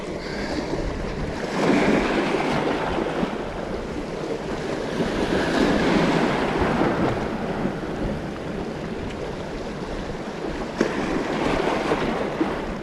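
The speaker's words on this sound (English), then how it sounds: "A couple of big waves coming." Big sea waves roll in off the Irish coast during sea bass fishing, a loud continuous wash of surf and wind that swells and eases, with no voices.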